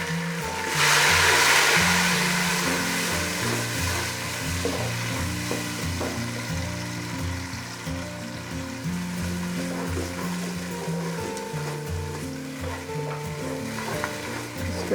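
Tomato and green chili paste stirred into frying onions with garam masala in a pan for aloo matar pulao, loud close sizzling that bursts up at the start then settles into a steady hiss with repeated spoon scrapes, no talk.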